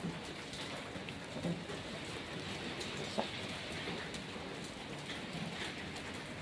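Heavy winter rain in Israel pours down steadily, a dense, even hiss of water close by that continues without a break and with no voices.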